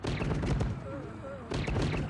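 Artillery cannons fire volleys in a war video game, a dense, continuous crackle of overlapping shots at steady loudness, with a voice speaking faintly in the background.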